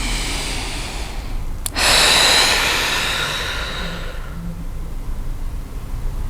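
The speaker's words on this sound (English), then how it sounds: "2 more breaths here, breathing in." A deep breath during a hip mobility stretch: one long, loud exhale rushes out close to the microphone, then tapers away into quiet room tone, with no talking.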